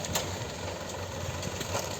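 A tractor engine idles steadily in a cabbage field while the harvest is loaded by conveyor, a constant low mechanical drone with faint clunks, moderately close.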